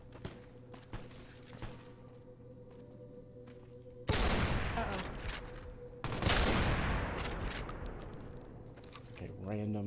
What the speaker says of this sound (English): Why do I hear gunshots in my...